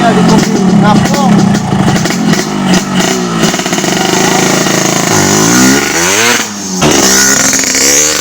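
A motorbike ridden with a rider shouting and talking over it, its engine droning loud and steady throughout, close up, with a brief dip and roughening partway through.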